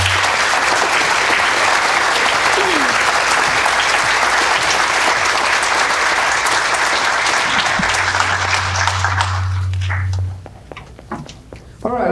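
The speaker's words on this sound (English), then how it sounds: "Can we please give a round of applause to Dr." An audience claps loudly and steadily for guest Dr. Christopher Schmitt at a high school mariachi performance. The dense applause holds for about ten seconds, then fades out quickly, leaving scattered claps and a low hum.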